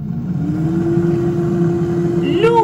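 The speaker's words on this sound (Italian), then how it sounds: "l'unico difetto che posso trovare a questa macchina è leggermente rumorosa, ha un rumore sordo" An Aicook air fryer running, giving off a steady, dull, low hum with a faint tonal whine that holds evenly throughout, moderately loud and close.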